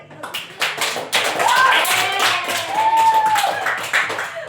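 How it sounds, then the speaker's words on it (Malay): A classroom gives applause after a student presentation, a burst of many hands clapping in a crisp, irregular patter that swells and then tapers off, with faint voices mixed in. "Bagi tepukan."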